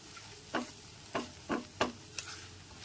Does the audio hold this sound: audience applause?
no